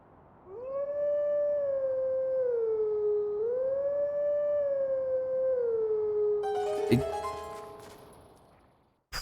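Wolf Link's long sustained howl at a howling stone in The Legend of Zelda: Twilight Princess HD, rising and falling in a slow melodic line, then cut off by a burst of bright game effects.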